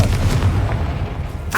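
A loud, booming blast of the Confringo fire spell from Hogwarts Legacy, a dense rumbling burst filling the short moment, with a brief voice at the very end.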